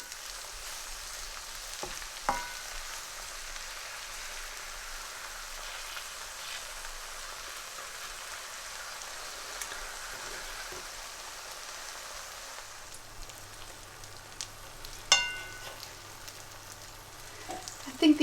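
Spicy omelette egg frying in a pan, a soft steady sizzle with occasional light clicks and scrapes, faint and even throughout, a low hum joining near the end.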